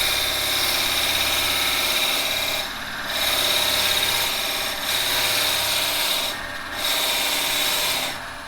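Drill bit boring into wood turning on a lathe, a steady loud grinding whir with a few brief drops in pitch and level as the bit is eased back and pushed in again.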